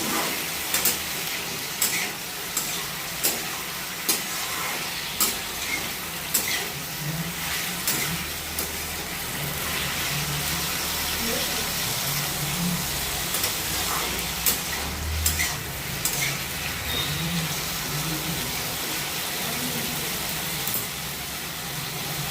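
Potatoes browning in a pan for an aloo side dish, a low steady frying hiss with a regular pattern of soft stirring knocks throughout, no voices.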